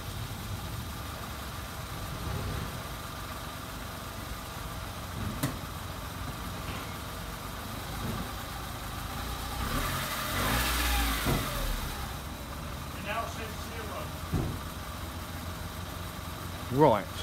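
A Smart City Coupe engine, after gearbox reprogramming, idles and revs steadily at close range, rising to a louder rev midway, with people talking over it.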